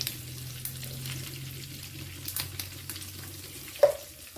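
Curry leaves and cumin dropped into hot oil with spluttered mustard seeds for a Konkani-style flattened rice tempering, a low steady sizzle with faint crackles and a sudden clink near the end.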